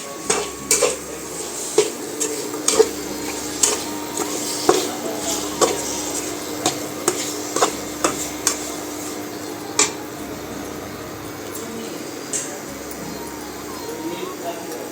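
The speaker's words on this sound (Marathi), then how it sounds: "आता हे पूर्ण मिक्स होईपर्यंत आपल्याला हलवून घ्यायचं आहे लोणचं" Lemon pickle being stirred in a pot with a spoon, a steady run of light clinks and scrapes against the metal in a loose, repeating rhythm, close by and moderately loud over a faint background hum.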